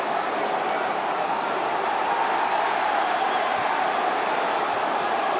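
Football crowd at Stamford Bridge during a Chelsea versus Aston Villa Premier League match, roaring for a red card; a steady, dense wall of crowd noise sustained throughout, loud and even with no pauses.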